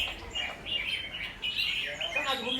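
A caged songbird chirps in quick repeated high tweets and short trills, close and fairly loud over a faint low background hum.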